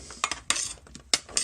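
Oiled Brussels sprouts being mixed in a pan, with a run of sharp scraping and clinking utensil strokes against the metal in an irregular rhythm, close and moderately loud.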